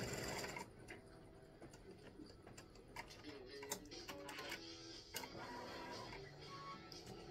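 A sewing machine stitches an open zigzag with rapid, even mechanical ticking and whirring, close and quiet, under soft background sound.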